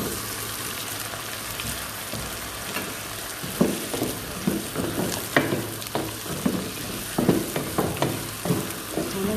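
Potatoes frying in a pan for creamy potato soup, a steady sizzle broken by a run of sharp stirring scrapes and clatters in the second half, close and fairly loud with no talk.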